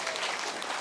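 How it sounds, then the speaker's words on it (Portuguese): A burst of dense applause greets the participants of a hypnosis show, a continuous even roar of many hands clapping for under a second. "salva de palmas para os nossos astros"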